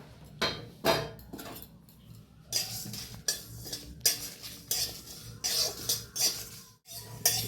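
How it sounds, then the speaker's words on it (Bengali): A spatula scrapes and clinks against a dry wok as fenugreek, nigella seeds, cumin and dried red chillies are roasted without oil, in uneven bursts of metallic rattling with brief pauses between strokes. "এখানে শুকনো কড়াই আমি ভেজে নেব"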